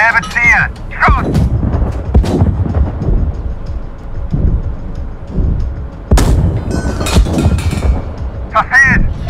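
In the Gunner HEAT PC (GHPC) game, an East German tank's main gun fires with heavy, close thuds over a rumbling engine bed, with German crew voices calling out between the shots.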